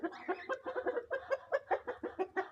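A rooster clucks in a quick series of short, throaty calls, a dozen or so in irregular bursts, close and moderately loud with no other voices.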